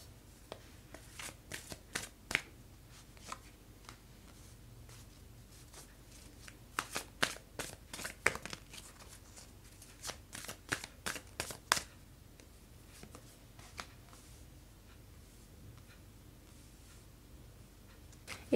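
Tarot cards being shuffled by hand in irregular bursts of crisp riffling and flicking, with quiet pauses between, close and fairly soft, no voices.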